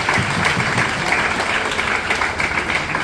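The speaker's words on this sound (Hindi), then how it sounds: "एक जोरदार ताली आप सबों के लिए" Audience applause at a DXN gathering in India, dense continuous clapping from a crowd filling the room, steady and fairly loud for the whole stretch with no voices on top.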